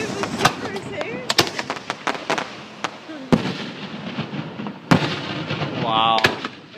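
Fireworks bursting close by at a July 2012 Torbay display, with a rapid series of loud, sharp cracks and booms, one whistling rise near the end, and people talking excitedly between the blasts.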